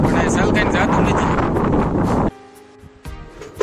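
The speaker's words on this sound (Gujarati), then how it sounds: "અહીંયા ખૂબ સરસ એવો ઠંડો પવન પણ આવે છે" Cool wind blowing hard across the microphone at Lohara dam, with loud steady buffeting rumble that cuts off abruptly partway, leaving quieter ambience with faint tones and a few knocks.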